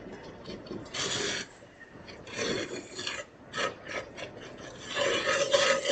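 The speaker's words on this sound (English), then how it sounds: "Get my gravy whisk and blend that around." A whisk scrapes and swirls gravy in a pan on an unlit burner, producing rhythmic raspy rubbing strokes in uneven bursts, close and fairly quiet.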